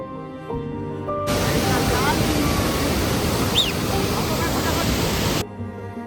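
A cold glacial river rushes loudly and steadily during a mountain trek river crossing on the Hampta Pass, a broad hissing roar that starts abruptly and cuts off near the end, with voices faintly around it.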